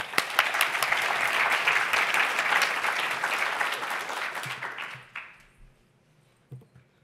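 Loud, dense applause from a conference audience at a Python data-science lightning talk, a steady wash of many hands clapping for about five seconds before it quickly dies away, leaving a few scattered claps in near silence.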